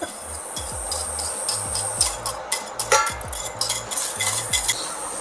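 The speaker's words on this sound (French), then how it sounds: "Faire chauffer une casserole. À l'intérieur, on va venir verser nos échalotes." Shallots tip into a hot saucepan with light sizzling, then utensils scrape and clink against the pan in an uneven rhythm over low background music.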